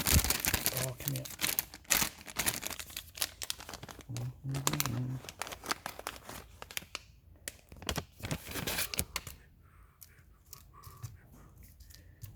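An engine gasket is pulled out and handled, giving repeated crinkling and rustling bursts of irregular rhythm, close and fairly loud, with a voice speaking between them.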